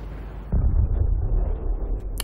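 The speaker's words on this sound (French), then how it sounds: "L'explosion, normal." An explosion goes off in Fallout 4 survival mode: a sudden heavy low boom that swells into a loud rumbling roar and holds for about two seconds, ending with a brief bright crack.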